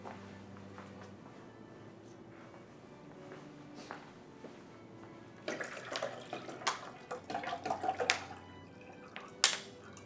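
Water pours from a tap into a stainless steel coffee machine's reservoir in short, uneven splashes after a quiet start, close by, with some clinks and drips mixed in.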